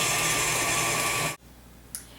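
An electric mixer churns peanut butter sugar cookie dough with a loud, steady motor whir that cuts off abruptly, leaving near silence and one small knock.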